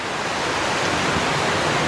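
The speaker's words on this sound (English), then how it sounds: "They're really tiered waterfalls that go quite a ways up." Tiered waterfall in the Cameron Highlands, a steady broadband rush of falling water that stays constant and fairly close throughout with no voices.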